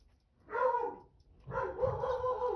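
A dog gives two drawn-out barks or howling woofs, the second longer, fairly close in an otherwise quiet space.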